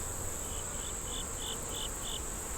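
A steady buzz of honeybees at a beehive hums throughout, with a faint repeated chirping pulse riding on top, no voices.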